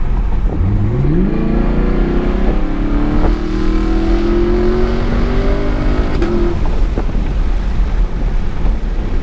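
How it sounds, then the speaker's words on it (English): Cabin view of a 2018 Camaro SS fitted with an MBRP 3-inch quad axle-back exhaust: a steady, loud engine drone that rises in pitch through an upshift and holds, with road and wind noise throughout. "So let's see what it sounds like in the car."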